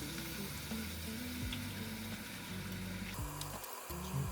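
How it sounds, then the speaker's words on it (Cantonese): Wine is splashed around the rim of a hot clay pot cooking black bean chicken, setting off a loud, continuous sizzle that crackles steadily throughout with no voices. "我哋而家喺個煲邊度灒啲酒"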